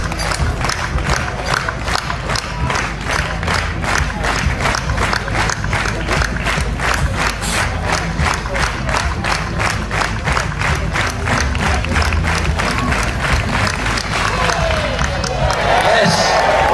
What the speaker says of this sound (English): let's get a big clap for it